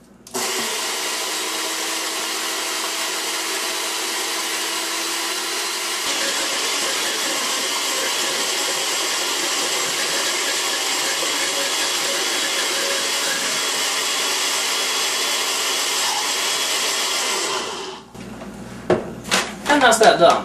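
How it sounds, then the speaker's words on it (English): A blender runs continuously for about eighteen seconds, whirring loudly and steadily as bananas are blended into vegan muffin batter in a small kitchen, then cuts off, leaving a few clatters and knocks. "Just leave it blending for as long as it's necessary"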